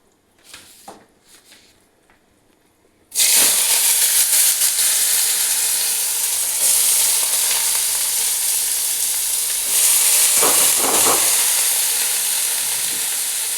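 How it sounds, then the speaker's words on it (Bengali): Onion hits hot oil with sugar and bursts into a loud, continuous sizzle after a few quiet seconds, the hiss staying strong with occasional stirring bumps, no talk. "পেঁয়াজটা একটু লালচে করে ভাজবো"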